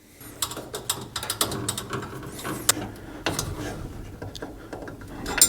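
A round-head Allen wrench tightens the bolts on a coolant overflow tank during installation, making a steady run of close metallic clicks and ratcheting ticks with small pauses between turns.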